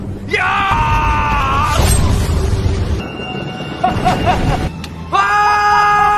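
A person screams loudly and repeatedly during a violent film scene in a martial-arts revenge story, with strained, harmonic cries in several bursts over dramatic noise.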